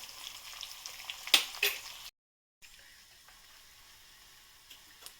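Ingredients frying in a pan, a soft steady sizzle with a couple of sharper spatula scrapes, a short gap of silence, then the quieter sizzle continuing.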